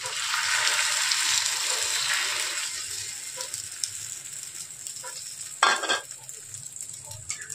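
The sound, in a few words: Maggi egg omelette frying in oil on a hot pan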